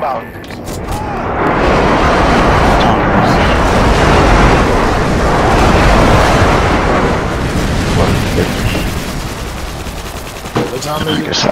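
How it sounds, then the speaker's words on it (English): Airstrike explosions in the Call of Duty Modern Warfare 2 multiplayer team deathmatch erupt in a long, loud, dense roar of blasts and gunfire, with a player's voice speaking over the din. "Airstrike standing by."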